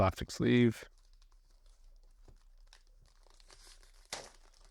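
A plastic sleeve is handled and crinkled close by in short, sparse rustles and crackles, following a brief spoken voice at the start.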